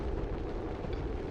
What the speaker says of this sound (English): Theo unloading with the mag cannon there.